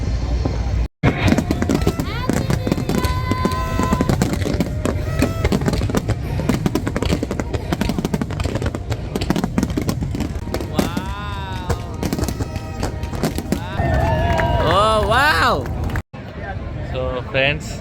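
New Year fireworks burst over Singapore at midnight, a steady wash of crackling pops and booms mixed with whistling streaks, with a crowd cheering and talking throughout at close range.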